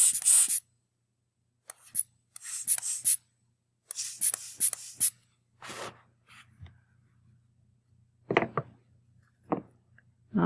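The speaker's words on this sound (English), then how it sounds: "I'm going to take the blower and I'm going to blow it out to make sure there's no moisture left in there, as well as the vent." A handheld air blower puffs short, sharp bursts of air to dry out a Synthaflex hearing aid ear mold and its vent, close and intermittent, with quiet gaps between the puffs.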